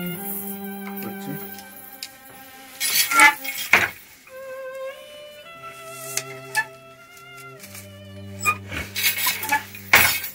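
A wooden handloom shuttle flies back and forth across silk warp threads on a West Bengal cottage loom, giving sharp clattering knocks in irregular bursts over a steady tonal hum.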